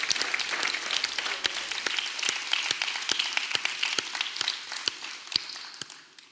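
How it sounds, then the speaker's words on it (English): At a chef and restaurant industry summit, a crowd applauds the Brigaid team, with a lively bed of clapping punctuated by sharp individual claps near the front, gradually thinning toward the end. "So I think we should just give a round of applause for Dan and the whole Brigade team"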